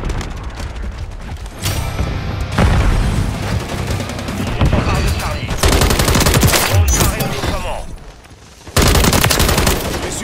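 Call of Duty gunfire comes in loud, dense bursts of rapid automatic shots separated by short lulls, with a few heavier booms and some faint talk underneath.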